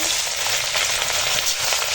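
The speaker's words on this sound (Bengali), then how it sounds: "তেল গরম হয়ে গেছে আর আগে মাছগুলো ভেজে নেব" Loud, dense sizzling of fish frying in hot oil, a constant close-up hiss and crackle with no talking.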